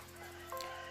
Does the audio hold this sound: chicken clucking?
yes